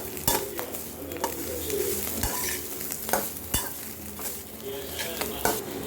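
Bread omelette masala sizzles and fries in a pan while a utensil scrapes and clanks against the metal, sharp clicks at irregular intervals over a steady close crackle.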